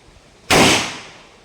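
A single gunshot on a firing range during an annual proficiency shooting day, one sharp loud crack after a brief quiet, followed by a reverberant tail that fades over about a second.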